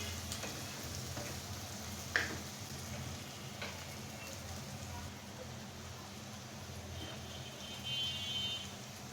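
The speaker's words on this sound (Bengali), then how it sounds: "এখন আমি ডালটাকেও খুব সুন্দর করে ফ্রাই করে নেব।" Dal lentils frying in a pan for a curry with prawns and taro greens, a steady close sizzle and crackle with occasional stirring taps and a brief beep.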